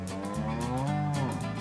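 Buffalo lowing: a deep, drawn-out moo, loud and near, sustained over a musical background with no one speaking.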